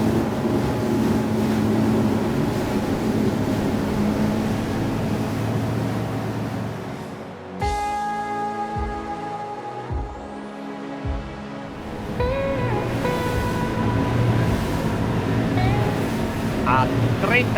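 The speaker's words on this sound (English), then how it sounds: "Veering is also very pleasant, with the engines maintaining almost the same RPM." Boat driven by new Honda BF350 outboard engines holds a steady drone while turning at nearly constant RPM, with wind and water rush throughout; around the middle the noise briefly drops and tonal engine whine stands out before the broadband rush returns.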